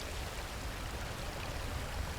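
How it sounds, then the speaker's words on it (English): Flowing water in a scene from the survival film Society of the Snow, a steady broadband rush like a mountain stream, constant and fairly soft, with no voices over it. "Flowing water."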